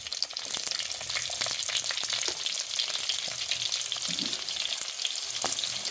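Onion pieces fry in a pan with a continuous crackling sizzle, scattered pops and occasional stirring scrapes, heard up close with no talking.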